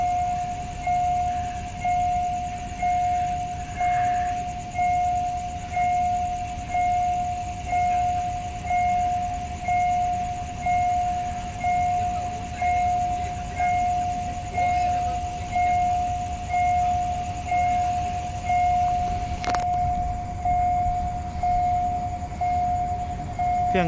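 A level-crossing barrier alarm rings steadily and loudly in a rapid repeating pulse while a train passes at a rural crossing in Udon Thani, Thailand, with rumbling rail noise underneath and no talk.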